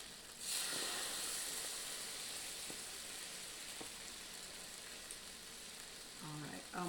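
Egg nog French toast frying in a pan gives off a steady, fairly quiet sizzle and hiss, with a few faint clicks and a brief voice near the end.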